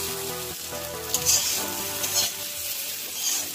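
Potatoes frying in oil in a kadai for Bengali egg curry, giving a steady close sizzle with a few brighter crackling bursts over a musical background, no talking.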